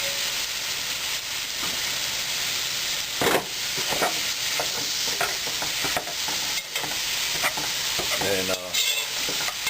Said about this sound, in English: It's already sizzling and then bust it up